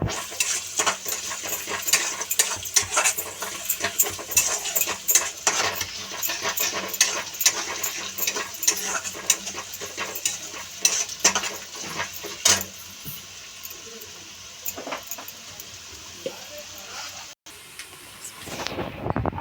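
Onion frying in a pan for a traditional Bhogi vegetable dish, with a steady sizzle under repeated metallic clinks and scrapes of a spoon stirring against the pan, ending in a brief quiet pause.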